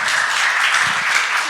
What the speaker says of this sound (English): let's give the applause first.